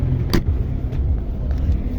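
A 2003 Zhiguli car running on methane idles steadily nearby, a low continuous engine rumble holding even throughout with one brief sharper noise near the start.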